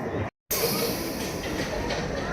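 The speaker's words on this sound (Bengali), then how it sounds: "হসপিটাল থেকে টিউব ধরে চলে গেলাম আর্সেনাল টিউব স্টেশনে" A London Underground tube train runs toward Arsenal station, a loud continuous rumble of wheels on track with faint squeals and clatter, heard close from inside the carriage after a brief cut to silence.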